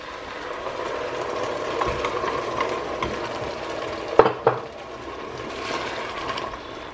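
A mixture is stirred into a pot of cabbage stew, giving steady scraping and bubbling with a couple of sharp clanks of the spoon against the pot partway through.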